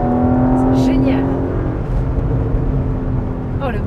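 Porsche Macan GTS engine revving hard in Sport Plus mode, a loud sustained roar with a steady harmonic tone that shifts pitch, heard up close under excited talk.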